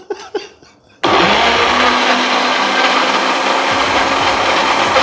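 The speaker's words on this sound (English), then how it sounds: "Let's turn on the blender first." A blender whirs loudly while blending green avocado sauce with coconut milk. It starts abruptly after a second of quiet kitchen clatter and then runs as a steady, close, full motor roar to the end.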